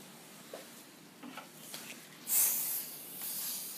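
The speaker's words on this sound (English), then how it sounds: "Remove the excess solvent by blowing air" A short, loud burst of blown air over tooth enamel to clear excess solvent, hissing for about a second and then easing into a softer steady hiss, after a few faint clicks.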